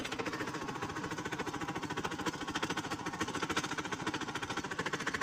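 A tractor engine runs on a rough, broken village road, chugging in a fast, even knocking pulse close to the microphone. It sounds alone, with no voices.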